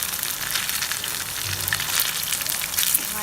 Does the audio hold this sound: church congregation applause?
no